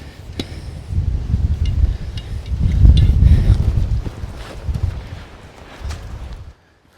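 Gusty wind buffets an outdoor microphone, a low rumbling roar that swells and eases for several seconds before cutting off abruptly near the end.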